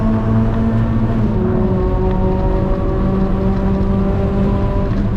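A race car engine holds a steady, loud, droning note out on track at Mid Ohio, with layered harmonics and no talking over it.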